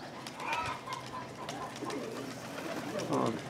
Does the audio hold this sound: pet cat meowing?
no